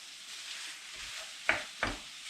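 White ragu sauce with added wine cooking in a pan, a faint steady sizzle with two sharp stirring knocks or clinks of a spoon against the pan partway through.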